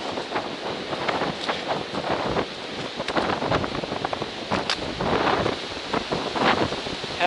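Strong gusty wind roars continuously on a mountain ridge along the Appalachian Trail, buffeting the microphone with uneven rumbling surges; no one speaks.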